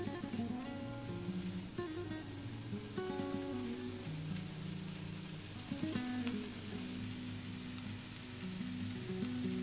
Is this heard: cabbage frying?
yes